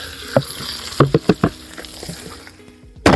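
Carrot and onion sizzle in a pot of oil while plov is cooked outdoors on a riverbank, with soft crackling and a few sharp stir clatters over the frying, quiet and close.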